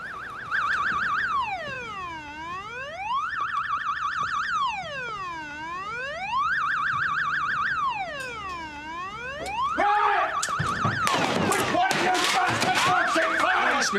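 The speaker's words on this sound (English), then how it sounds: "Can you turn the alarm off, please?" An alarm goes off loudly and plainly, a repeating electronic wail that sweeps up and down in steady cycles, during a police search with a warrant; it cuts into a burst of commotion and raised voices near the end.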